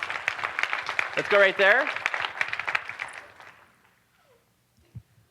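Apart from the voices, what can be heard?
audience applause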